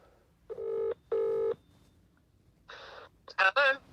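A telephone call is placed: two even electronic tone bursts sound close by, followed by a few shorter, buzzier tones over a quiet background.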